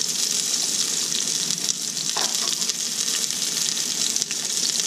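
White onions sautéing in a pan for a kare kare oxtail stew, giving a steady, dense sizzle throughout with a faint scrape or two partway through; no one speaks.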